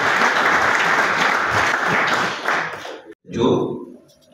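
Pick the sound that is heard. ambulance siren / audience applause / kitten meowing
audience applause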